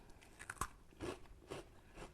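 Crunchy spice cookies from a holiday tin are bitten and chewed close to the mic, a sharp crisp bite followed by several quiet, rhythmic crunching chews, soft and without speech.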